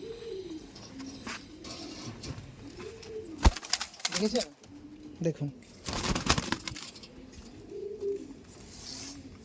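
Andhra pigeons keep up rhythmic cooing close by while someone talks briefly over them, with a few sharp clattering knocks in the middle.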